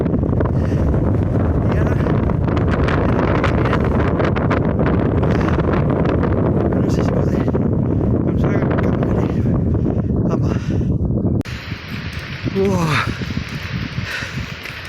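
Strong wind buffets the microphone on an uphill forest walk, a loud continuous roar that runs for most of the stretch before easing slightly near the end, with a few brief sounds over it.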